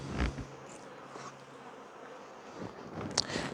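Honey bees buzz around strong hives outdoors, a faint, continuous hum with occasional closer passes and light wind noise, and no one speaking.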